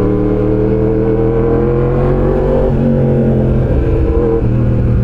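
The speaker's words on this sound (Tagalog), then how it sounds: "Isang mamimiss ko talaga dito kay MT-10 ay ang bruskong tunog niya" A Yamaha MT-10 motorcycle engine idles with a deep, steady, rumbling throb, close and loud throughout, with slight shifts in pitch near the end.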